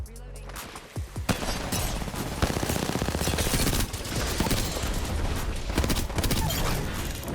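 Gunfire in the video game Apex Legends, sustained dense automatic shooting and impacts throughout, loud and busy, with players talking over it.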